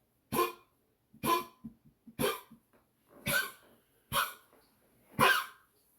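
A dog coughs and honks in six harsh, spaced bursts, with small wheezy gasps between them and no talking.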